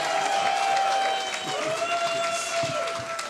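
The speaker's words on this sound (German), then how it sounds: "Applaus für Kay." Outdoor crowd at a lesbian and gay street festival applauding, a diffuse wash of clapping and murmur from a distance, steady throughout with a sustained tonal hum beneath.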